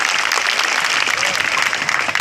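An audience at a live Hindi stage show bursts into loud, sustained applause, a dense wash of clapping that keeps going without a break.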